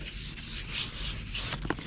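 Sandpaper rubbing by hand along the grain of lacquered wood, close continuous scratchy strokes in a steady rhythm with a small tap near the end.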